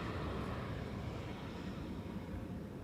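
A British Airways airliner passes near Schiphol Airport's Polderbaan runway, a steady, broad roar of jet engines holding at a constant level throughout, with no voices.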